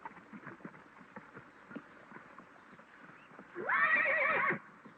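A horse on a western ranch gives one loud, clear neigh near the end, after a run of soft, scattered hoof clip-clops.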